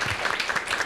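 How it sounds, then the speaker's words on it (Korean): An audience at a Korean university career-support event applauds, giving a brief, steady patter of clapping. "이럴 때 박수 한번 주시면 감사하겠습니다."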